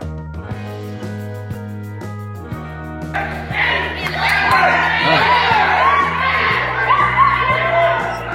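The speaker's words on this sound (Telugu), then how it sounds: "అందరూ అరిచి గోల చేశారు" A crowd of visitors shouts and whoops noisily inside Golconda Fort in Hyderabad at closing time after dark, their loud voices echoing over a steady murmur and swelling after the first few seconds.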